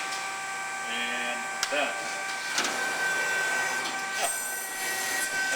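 A RAS Model 74.25 CNC hydraulic folding machine with back gauge runs with a steady mechanical hum and hydraulic whine, punctuated by a few sharp clunks and clicks, and someone speaks briefly over it.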